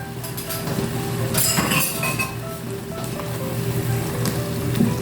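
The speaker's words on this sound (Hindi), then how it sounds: "अब हम इसको अच्छी तरह से भून लेंगे इसके अंदर।" Fenugreek and potato curry with yogurt roasts in a pan, giving a steady sizzle with occasional clinks of a spoon against metal, close and unaccompanied by talk.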